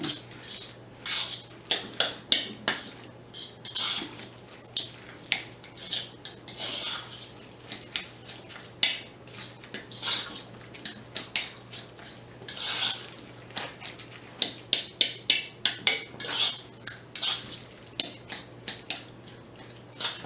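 A spoon clinks and scrapes against a bowl, working a salmon patty mixture with flour, in uneven bursts of clattering strokes with brief pauses, close and fairly quiet.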